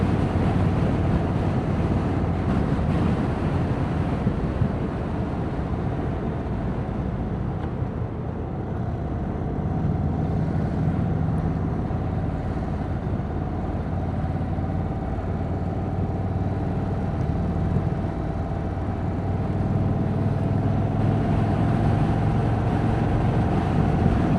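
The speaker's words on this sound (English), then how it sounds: "Air-cooled motors just have that just cool sound." A 2026 Indian Chief Vintage's air-cooled motorcycle engine drones steadily while riding, its even low hum partly masked by constant wind buffeting across the microphone.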